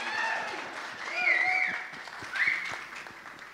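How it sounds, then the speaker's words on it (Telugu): An audience at the Virupaksha film success meet claps steadily in a dense patter, with whistles, cheers and crowd voices rising over it. "క్లాప్స్ కొట్టండి రా."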